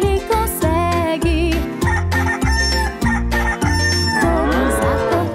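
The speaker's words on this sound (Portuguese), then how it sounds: "O galo não se cansa e canta até que ele consegue." A rooster crows inside a children's farm song, its loud cock-a-doodle calls woven through a bouncy, rhythmic musical backing with sung vocals.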